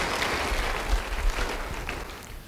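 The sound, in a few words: audience applause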